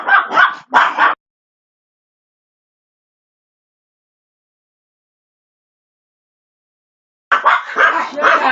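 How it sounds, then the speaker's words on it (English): Dogs barking indoors during a live home broadcast: a short burst of several loud barks, then a long silence, then another cluster of barks near the end. "Sorry about the dogs barking."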